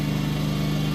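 A small engine idles steadily at close range, a constant low drone with a fast even pulse and no talking.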